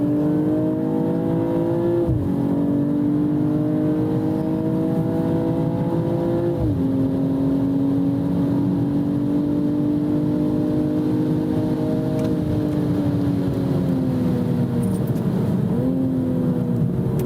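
BMW 240 race car at speed on a circuit, engine droning loud and close with several upshifts, pitch climbing then dropping at each change, continuous with no talking.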